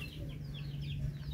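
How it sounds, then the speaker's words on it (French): Native Philippine chickens clucking at a chicken coop, several soft, close calls repeating over a steady low background hum. "Des œufs de poules native. Les poules natives des Philippines."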